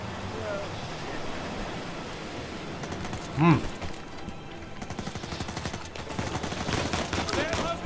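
Video game gunfire rattles in dense, continuous bursts over a noisy background, with one sharper blast partway through and more firing building toward the end.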